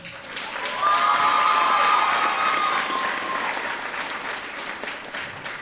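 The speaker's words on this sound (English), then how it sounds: "How about a round of applause for our soloist, Ellie Wright?" Applause from a middle school popular music concert audience for a soloist, steady sustained clapping that swells after the first second, with a tonal hum running under it and a gradual easing toward the end.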